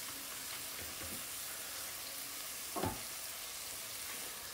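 Spices frying in a pan for aloo gobi, a steady broadband sizzle throughout with a brief louder stir or crackle near the middle, no voices.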